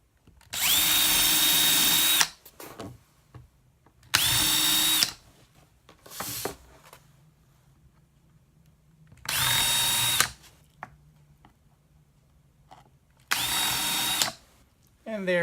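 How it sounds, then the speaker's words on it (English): A power drill bores small pilot holes into wood, heard as five loud whirring bursts, each one to two seconds long, separated by quieter gaps that carry faint handling knocks and clatter. "what I'm going to do is drill some little small pilot holes"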